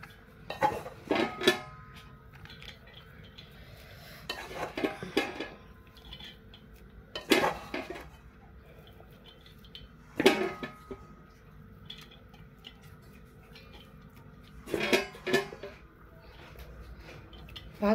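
A serving spoon scrapes and clinks against a biryani pot while rice is layered over gravy, sounding as several separate bursts of metallic knocks spaced a few seconds apart, with a quiet hum in between.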